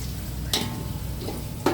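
Whole spices go into a hot pan for chicken biryani masala, a low continuous sizzle with two brief sharp clinks or scrapes, close and fairly quiet, no voices.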